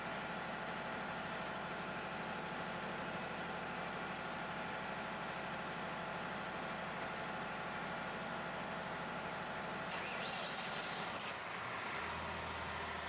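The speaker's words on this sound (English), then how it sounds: "now I'm going to start the generator" A diesel generator runs with a steady engine drone and a constant whine, and a shift in tone near the end suggests the engine settling as it starts up.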